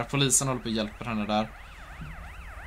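In Grand Theft Auto, an ambulance siren wails in a steady rising and falling pattern, entering under someone speaking and then continuing on its own at moderate volume.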